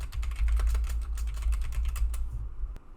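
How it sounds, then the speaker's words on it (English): Someone types a name on a computer keyboard, a quick run of close, distinct key clicks at an even rhythm that stops abruptly near the end. "I'm just going to go ahead and type in my name."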